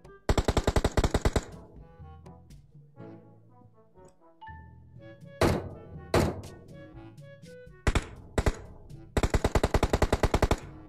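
Bursts of automatic gunfire in the BGMI battle royale game, rapid rattling volleys at the start and end with scattered single heavy shots and thuds in between, loud and close.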